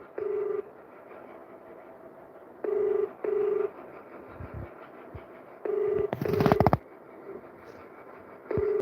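A series of short, evenly pitched telephone keypad tones sounds in separate bursts, with a brief rustle in between and quiet background otherwise.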